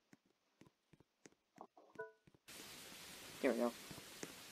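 In a Roblox city role-play game, a sudden wash of rain noise starts up and continues steadily after a player speaks briefly over it.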